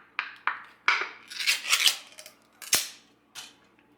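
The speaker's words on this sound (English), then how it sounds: "We're going to open 1 can of spam." A can of Spam being opened in a kitchen: a string of sharp metallic clicks, pops and short scraping crunches, about eight distinct snaps spaced irregularly over a few seconds, close and clear with no talking.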